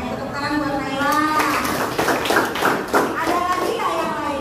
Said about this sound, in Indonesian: Oke, tepuk tangan buat Naila.